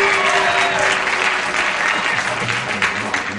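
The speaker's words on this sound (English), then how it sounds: "everybody else is applauding" Studio audience at a 1977 television game show applauding steadily, a dense wash of clapping that carries throughout, with a bit of crowd noise mixed in.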